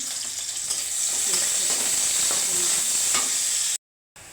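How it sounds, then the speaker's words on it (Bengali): Onion, garlic and three dry chillies fry in oil for mango dal, giving a steady, close, bright sizzle with faint stirring clicks, then a sudden brief cut to silence near the end. "একটা পেঁয়াজ, একটা রসুন এবং 3টা ঝাল দিয়েছি, শুকনো ঝাল ভাজার জন্য"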